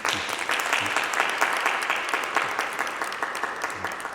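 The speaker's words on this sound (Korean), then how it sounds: "우리 환영의 박수 한번 보내드릴까요" Welcoming applause from a church congregation during a Sunday service, many hands clapping steadily and moderately loud, tapering slightly toward the end.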